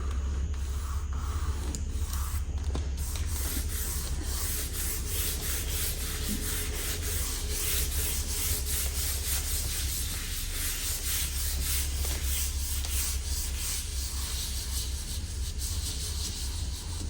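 Soft pastel being rubbed and blended into paper while drawing Uluru, a continuous close, dry scrubbing and rubbing texture with a steady low hum underneath, no voices.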